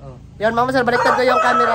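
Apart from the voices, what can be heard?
chicken crowing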